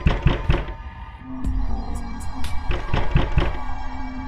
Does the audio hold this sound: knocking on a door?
yes